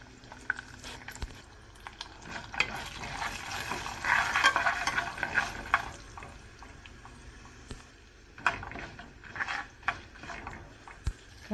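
Mustard seeds, cumin, lentils, turmeric, two red chilies and curry leaves crackle in hot oil, a close, uneven sizzle with bursts of popping and spoon scrapes that swell midway and again near the end, with no talking.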